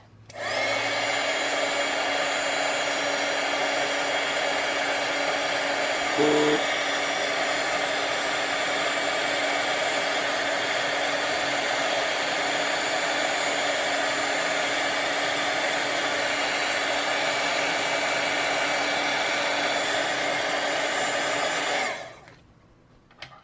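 Heat embossing tool blowing hot air over embossing powder on a handmade birthday card, a steady loud whirring hum with a whine that runs nonstop for about 22 seconds, with one brief click early on, then cuts off.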